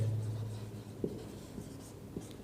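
Chalk or marker writing a purchase entry on a classroom board, a few soft strokes and light taps over a low room hum, close but quiet with no voices.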